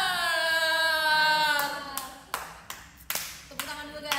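A clear tone fades out, then a few loud, sharp hand claps ring out close by in an uneven burst.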